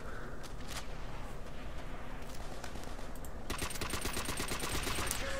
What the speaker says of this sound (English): This is the jack of all trade guns. This is the Sturmgewehr